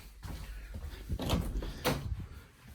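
A door in a holiday home lodge opens with a couple of soft, muffled knocks and thuds from a latch and handle, fairly quiet against room noise.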